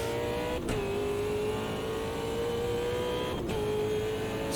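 Super V8 race car engine on throttle at Bathurst in the Automobilista 2 video game, a loud steady high-revving drone with two brief gear-shift dips, alone without talk.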